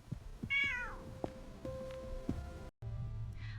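A house cat meows once, clear and close, its voice falling in pitch, over a low hum and faint household background, with a quieter second meow near the end.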